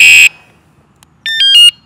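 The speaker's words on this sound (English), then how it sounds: "Just like a car alarm, it goes through all the different tones" An e-bike anti-theft motion alarm sounds off: a loud opening blast, then a pause and a run of quick, piercing electronic tone changes, near and alone.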